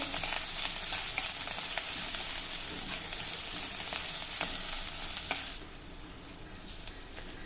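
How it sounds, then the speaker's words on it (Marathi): Crushed ginger, garlic and green chili sautéing in a hot oiled pan, a steady bright sizzle with occasional stirring scrapes, loud and close, easing down slightly near the end; no talking. "एक टीस्पून ठेचलेलं आलं लसूण चवीनुसार हिरवी मिरची घालूया आता हे सर्व आपल्याला नीट परतून घ्यायचं आहे"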